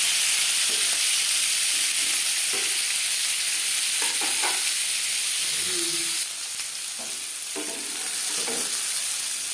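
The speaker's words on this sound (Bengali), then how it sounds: "জ্যান্ত মাছ আমি একটু হালকা করেই ভেজে নিলাম" Fresh fish fries lightly in a pan, giving a continuous close sizzle with occasional soft spatters and utensil scrapes. The hiss dips slightly partway through.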